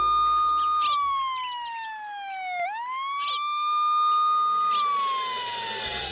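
An ambulance siren wails loud and close, a steady rising and falling electronic tone that dips once and climbs back, with brief chirps and bursts of other noise over it.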